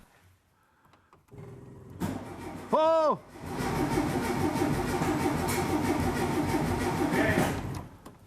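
A 1969 VW Beetle engine starts for the first time in 14 years after a corroded starter wire was cleaned: a brief cranking burst gives way to a steady, loud running roar, with an exclaiming voice near the start.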